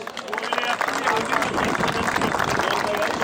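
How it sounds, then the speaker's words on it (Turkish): Crowd applause for the third-place winner at a Kangal dog competition, steady clapping mixed with crowd murmur and voices throughout. "Kastamonu Azdabay'dan Cengiz Bey'e bir alkış"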